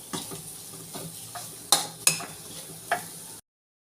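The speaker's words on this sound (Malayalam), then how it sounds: "തേങ്ങയൊക്കെ നല്ലപോലെ ഫ്രൈ ആയിട്ടുണ്ട്." Dried coconut frying in a pan, a soft sizzle punctuated by several sharp metallic scrapes and clinks of a utensil stirring, then abrupt silence.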